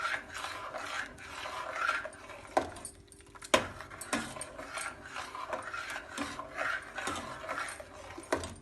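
Egg being stirred into a pot of chicken corn soup, with a utensil scraping and clicking against the pot in a steady, uneven rhythm and a few sharper knocks.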